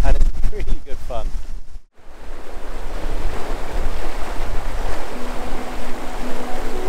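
A Beneteau Oceanis 34.1 sailboat sails in about 10 to 12 knots of breeze, making 7 to 8 knots. Waves wash and wind buffets the microphone steadily after a brief voice and a short dropout near the start.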